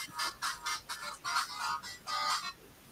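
A mobile phone ringtone plays a warbling electronic tune in short, evenly spaced bursts, moderately loud and close, with no talking over it.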